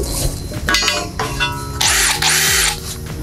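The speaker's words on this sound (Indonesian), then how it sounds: "kita setting di sini itu adalah karena kita ngebor di beton ya" A DeWalt DCH133P2 2 kg three-mode cordless rotary hammer drill whirring in short bursts, loud and close, with a sharp high-pitched whine in the later runs, no talking over it.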